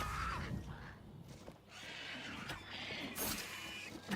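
A horse neighs in the video game Oblivion Remastered, a clear whinny with a few faint hoof clip-clops in a quiet outdoor scene, fairly soft overall.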